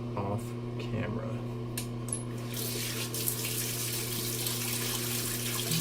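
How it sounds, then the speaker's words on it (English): Steady water running from a bathroom tap into a sink while someone washes their face after a shave, a continuous close hiss with brief splashes and light clinks, under a constant low hum. "Guess I'm gonna wash my face off"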